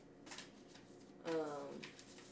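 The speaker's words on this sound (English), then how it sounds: "I'm not a great shuffler, but I'm going to shuffle enough to get to whatever's supposed to be said" A deck of oracle cards is shuffled in a couple of faint, quick riffling bursts. The second burst is louder than the first, and a voice speaks softly around them.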